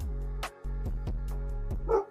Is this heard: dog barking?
yes